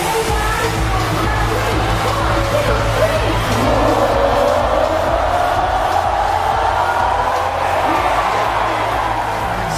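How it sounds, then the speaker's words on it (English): A large outdoor crowd at Singapore's 2019 National Day Parade at the Padang applauds as a parachutist slides in to land. The noise is a dense, steady roar of clapping and cheering that holds throughout. "Sliding in to a wonderful applause at the Padang"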